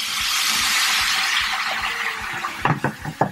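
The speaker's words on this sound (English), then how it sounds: "Dobbiamo mettere un splash di white wine." White wine splashes into a hot pan of paccheri with salmon, setting off a loud, bright hiss and sizzle that slowly fades, followed by a few short clinks and knocks near the end.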